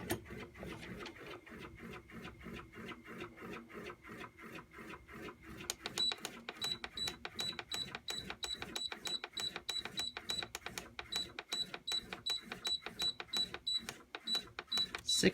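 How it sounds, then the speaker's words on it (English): A stuck fan motor inside an Amana 6,000 BTU window air conditioner, scraping in a fast, steady repeating rhythm of clicks with a thin high whine joining partway through, close and fairly loud. "Fan motor's stuck on something."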